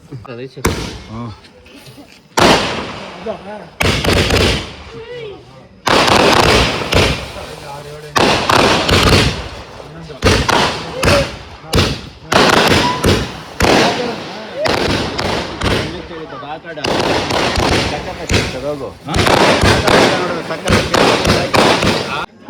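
Loud firecrackers burst in a rapid, irregular series of sharp cracks and bangs close by at a housewarming, with people talking and calling out between the blasts.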